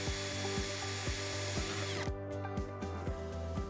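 A power drill with a 3.2mm bit pre-drills holes in a door seal carrier for a tilt garage door, a loud steady motor whine with rhythmic clicks, close up, the pitch dropping as the bit bites and slows.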